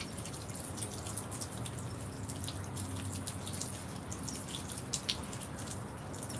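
Faint water drips fall now and then in a quiet room over a low background hum, with a couple of sharper drops near the end.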